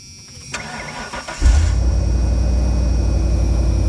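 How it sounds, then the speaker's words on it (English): A 1996 Ford F-Super Duty pickup truck engine cranks briefly, then catches and settles into a loud, steady idle with a deep low rumble. "go ahead and fire it up"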